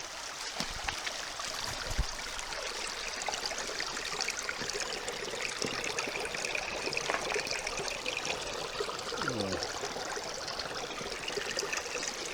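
Water runs steadily through a gold prospecting sluice set up in Slab Hut Creek, New Zealand, a continuous close trickling and splashing stream with no voices.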